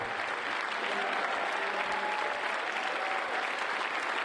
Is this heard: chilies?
no